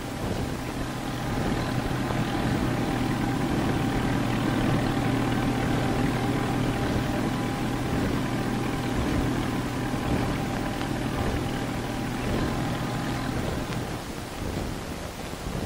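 A Convair F-102A interceptor jet engine runs during ground checks, giving a loud, steady broadband roar with a constant low hum that holds unbroken for the whole stretch before easing slightly at the end.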